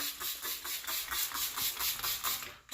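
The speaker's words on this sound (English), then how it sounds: "So what I do is just start spraying" Rapid rhythmic hissing sprays of tub and tile cleaner from a spray bottle, about a dozen quick squirts in a steady pulse, close and fairly loud.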